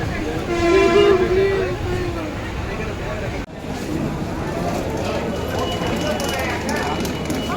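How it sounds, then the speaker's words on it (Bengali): Howrah Jan Shatabdi Express starting to pull away from a station platform, a steady rumble of the moving train with a horn-like tone early on and voices and platform noise mixed in. "আমাদের ট্রেন হালকা হালকা প্ল্যাটফর্ম থেকে ছাড়তে শুরু করে দিয়েছে"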